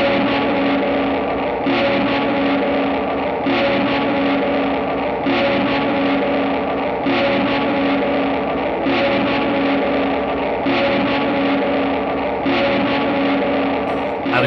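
A fuzzy, distorted guitar tone with slapback from a Black Hole Symmetry pedal into a modulated reverb repeats in steady swells, with an echoing slapback and washy reverb trailing each phrase.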